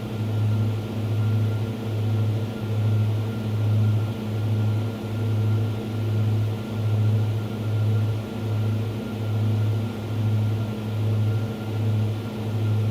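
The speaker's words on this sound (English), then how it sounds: "the plane sounds really good on the inside" Cockpit engine drone of a Diamond DA42 twin-engine aircraft in a flight simulator game, a steady loud hum with a regular rhythmic pulsing throb and no talking.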